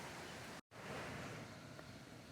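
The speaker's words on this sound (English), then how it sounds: "I'm going to turn this around and show you the river." A river with small rapids along the Appalachian Trail near Davenport Gap Shelter, heard as a steady, close broadband rush of flowing water with one brief dropout.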